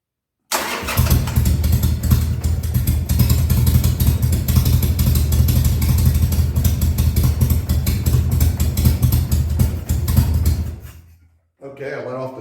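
A 2000 Harley-Davidson Sportster 1200C V-twin running lean on a temporary fuel setup, first start after six years: loud, close, steady lumpy idle for about ten seconds, then it sputters and dies, followed by a brief voice.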